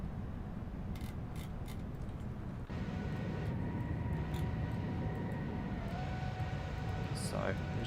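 A Qantas Boeing 787-9 flies in the X-Plane 11 simulator, its engines giving a steady, broadband cruise drone throughout, with brief clicks over it and a person talking over the engine noise.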